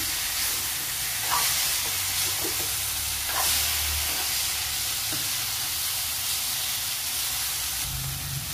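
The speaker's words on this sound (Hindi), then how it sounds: "व्यवस्थित मिक्स करून घ्यायचं आहे आता आपल्याला मॅगी" Maggi noodles with a fried egg being stirred in a hot pan: continuous loud sizzling and hissing with occasional scraping clinks of the utensil, close up and without talk.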